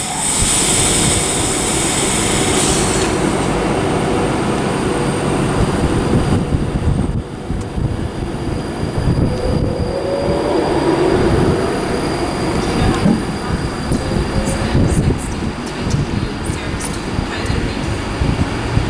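A Class 390 train, unit 390042, rumbles past at Haymarket on its run from London Euston to Edinburgh Waverley, loud and close, with a high wheel squeal early on and a steady rolling clatter that continues to the end.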